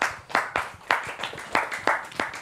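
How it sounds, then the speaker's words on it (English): Christian gets a small round of applause from a meetup audience after a talk on decentralized finance, with sparse, uneven claps from a few people, fairly close and steady for a couple of seconds. "Round of applause for Christian."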